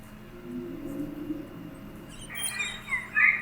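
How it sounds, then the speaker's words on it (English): Sped-up whale calls that come across as bird-like chirps and tweets, growing louder and brighter toward the end over a low steady rumble. "If I take a whale and we speed the whale up,"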